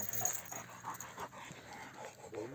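A wolf-hybrid dog pants softly in short, rapid breaths, mixed with faint whimpers and light rustling at close range, with no talk.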